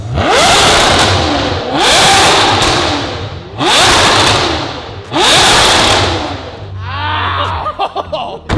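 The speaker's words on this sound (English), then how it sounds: "It's loud inside the car." A powerful Ferrari engine revs hard in four loud bursts, each rising then dropping, heard close from inside the cabin, with a lower idle rumble at the end.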